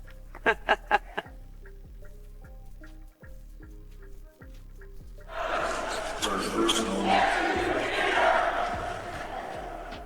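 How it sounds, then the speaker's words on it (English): Clippers fans in a basketball arena break into loud, swelling crowd noise midway, after rhythmic stomp-clap pounding and a few sharp shouts, with the roar sustaining to the end. "Clippers fans just wanted to make sure that they could be heard here."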